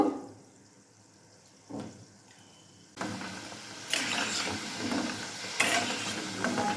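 Mini gulab jamun made with a small amount of chhena fry in oil over a medium flame. A few faint clicks give way to a steady, building sizzle with brief louder surges.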